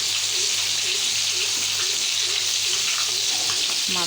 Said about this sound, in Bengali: মাছটাও সুন্দর ভাজা হয়ে আসছে